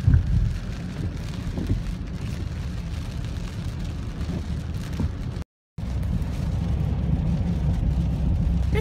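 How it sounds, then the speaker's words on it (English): Steady rain drumming on a moving car, with a low road rumble underneath; a brief silent gap interrupts the constant wash of noise. "Still raining."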